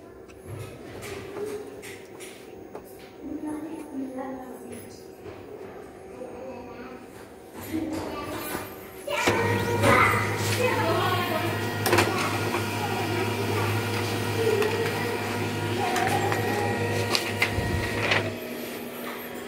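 A Brother printer running a test print after a fault is cleared, a steady mechanical hum and whir that starts partway through and continues at close range, with someone talking over the earlier part.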